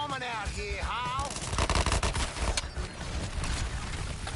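Rapid bursts of automatic gunfire ring out in the video game Suicide Squad: Kill the Justice League, dense crackling shots mixed with game effects and a brief voice-like whine, fairly quiet overall.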